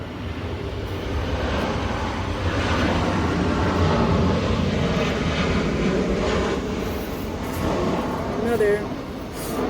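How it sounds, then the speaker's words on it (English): A loud, steady engine roar of an airplane passing overhead fills the whole stretch, swelling and fading slightly, with a voice talking faintly underneath. "Another airplane is going by, so sorry,"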